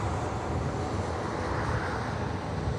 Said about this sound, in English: Off goes a Logan Air ATR 72.